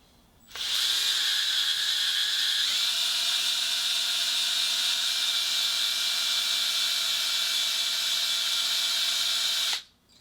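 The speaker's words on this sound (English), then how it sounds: "The rotation to get it to prime is counterclockwise on the drill." A power drill priming the oil pump of a rebuilt 1977 Ford F250 351M engine whines steadily for several seconds, starting abruptly, shifting pitch slightly early on, then stopping, close and loud with no talking.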